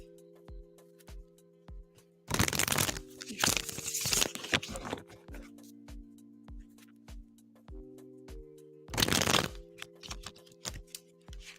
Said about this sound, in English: All right, so I am shuffling for Ray now